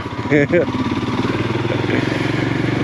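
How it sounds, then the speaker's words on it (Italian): Motorcycles on a gravel road in the Colli Euganei hills give a close, steady throbbing engine drone, with a short voice near the start. "ci sono un po' di moto"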